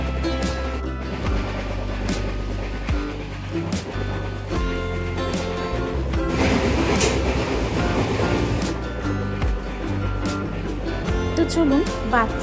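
A moving train between Bardhaman and Howrah gives a constant rumbling roll with rhythmic rail clatter and a droning hum, heard from inside the carriage beneath background voices.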